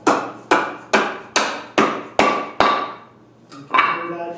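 Seven sharp, evenly spaced hammer blows ring out close and loud as a wooden handle is driven onto a bowl gouge, each decaying quickly, followed by a brief pause and a softer final knock.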